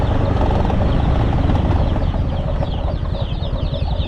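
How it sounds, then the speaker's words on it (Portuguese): Chickens cluck and flap beside a narrow, almost empty rural dirt road in Brazil, brief calls and wing flutters heard over a continuous vehicle engine rumble. "Tem muito movimento de galinha aí, ó."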